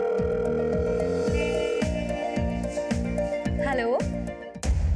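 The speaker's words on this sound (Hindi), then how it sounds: "सुनिए, सुलेमान का फोन है।" A telephone rings in a Hindi-language scene, a steady repeating electronic ring pattern pulsing at an even rhythm, fairly loud and close, with voices briefly audible near the end.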